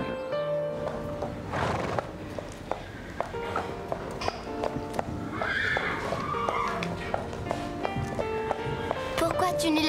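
A horse, a mare, neighs and whinnies while its hooves clip-clop on the ground at a riding club, with scattered sharp ringing sounds. Voices speak over it throughout.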